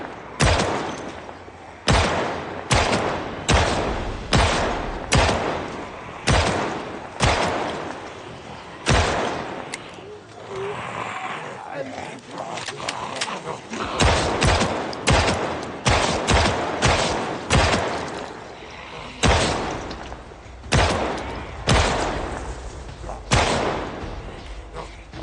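Rapid pistol shots from an M9 in the video game Project Zomboid ring out in irregular bursts and single cracks, loud and close throughout.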